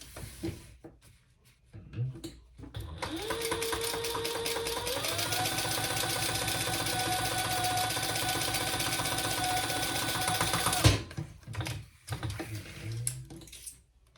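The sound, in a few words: sewing machine top stitching a crossbody bag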